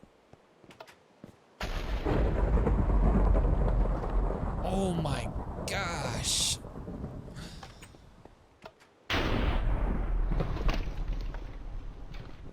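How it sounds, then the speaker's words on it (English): Heavy thunder in Minecraft rumbles and booms loudly in long rolling bursts, with a brief silence before another crash; a voice exclaims under it. "This thunder is crazy."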